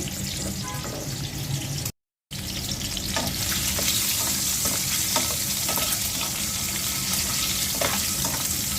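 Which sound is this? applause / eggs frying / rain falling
eggs frying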